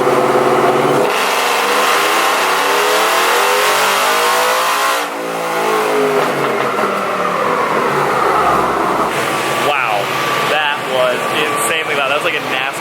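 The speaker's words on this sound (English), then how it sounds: "5-liter V8 Supercharged out of the Raptor." A supercharged 5-liter V8 from a Ford Raptor truck revs hard and loud on a dyno, its pitch climbing through the gears with a whining supercharger, pausing briefly before winding up again.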